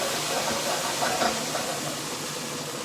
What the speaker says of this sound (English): So I've got my gas burner here on high. Saute it down.